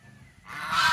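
A goose gives a single loud, harsh honk that bursts in after a brief, quiet moment and carries on to the end, close by in a farmyard.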